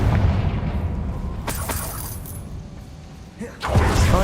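A Confringo fire spell detonates in Hogwarts Legacy on hard mode, a sharp blast followed later by a second burst over a low rumbling game backdrop.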